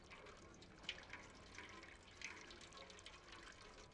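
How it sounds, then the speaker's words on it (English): Water drips and trickles faintly in a small, quiet apartment in the video game Stray, with scattered soft drops over a low watery background. "Water dripping here."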